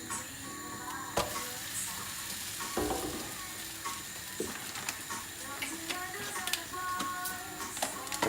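Cheese and bacon pancakes fry in a pan with a steady, quiet sizzle broken by occasional light clicks and scrapes.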